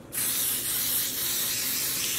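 Dye sprays onto a knitted sock blank in one continuous, loud, close hiss that starts abruptly and holds steady, with no voices.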